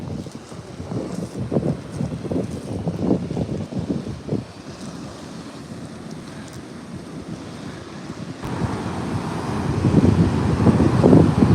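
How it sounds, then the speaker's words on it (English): Ocean waves roll onto the shore in surging, hissing washes mixed with wind noise buffeting the microphone, growing louder as a bigger wave breaks near the end. "the sound of the waves."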